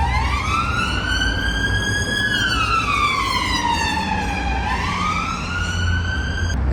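Loud wailing police siren sweeping slowly up and down, with a rumbling vehicle engine underneath throughout.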